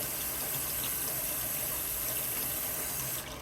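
Tap water runs steadily and loudly for the whole stretch, a constant broadband gush with no voices, filling a container to make recycled paper at home, easing off slightly at the very end.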